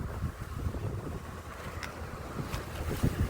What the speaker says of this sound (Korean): 바람이 많이 불어요